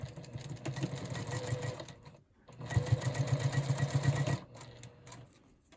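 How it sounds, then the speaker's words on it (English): A sewing machine chain-sews the rows of a small quilt block, a soft rapid needle rattle in two runs separated by a short pause. "we're going to just lay it out and chain sew the rows together"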